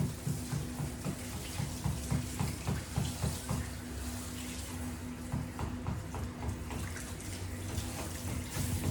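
Water splashes and runs steadily while a Gordon setter is rinsed during a bath with shampoo and conditioner, a continuous close wash with patchy splashing rhythm and a low hum throughout.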